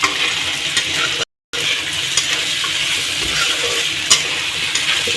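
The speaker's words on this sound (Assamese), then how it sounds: "আলুখিনি দিয়াৰ পিছত আপোনালোকে এনেদৰে অলপমান লৰাই থাকিব।" Potatoes are stirred into a frying yogurt meat curry, giving a continuous close sizzle with occasional scraping knocks of a utensil and a brief dropout partway through.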